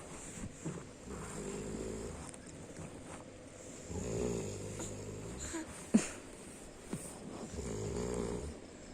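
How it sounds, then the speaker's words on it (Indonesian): A sleeping father snores in slow, rhythmic cycles, each a rough rattling inhale rising and falling, heard close with a soft click in the middle. "Suara ngorok ayah."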